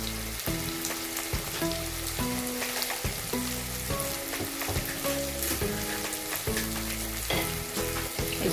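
Masala sizzles and crackles steadily in hot oil over full flame while beaten yogurt is stirred in for a Mughlai chicken changezi gravy, the frying loud and continuous with a repeating rhythmic stirring pattern and no talking.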